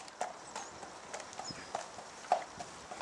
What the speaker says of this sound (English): He is an Irish sports horse and he is grey.